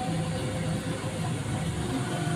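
A car engine runs steadily while driving, a continuous mid-low drone with a faint tonal hum, moderately loud and unbroken throughout with no talk.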